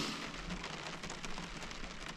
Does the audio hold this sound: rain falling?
yes